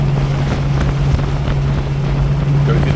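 A 1964.5 Ford Mustang convertible engine drones steadily and loudly from inside the moving car on a test drive, with a low, even hum and wind rush; no distinct gear changes stand out.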